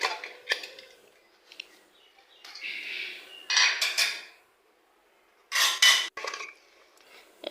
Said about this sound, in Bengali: একটু নেড়ে চেড়ে আমি কড়ার মধ্যে ঢেলে নেব।